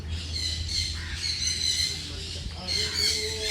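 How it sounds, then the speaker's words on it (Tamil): A small ostrich-like bird, a species kept for eggs and meat in Arabian countries, gives repeated squawking calls over a steady low hum, with chirps from other birds around it in an open bird sanctuary setting. "இது ஒரு சிறிய வகை ஆக்ஸ்ட்ரிச் மாதிரியான ஒரு இனம்தான்."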